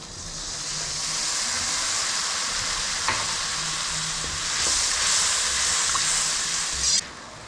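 Vinegar mixed with a little water hits a pan of frying mutton pickle masala, giving a loud, steady sizzle and hiss that swells midway, with a few stirring clinks, then cuts off abruptly near the end.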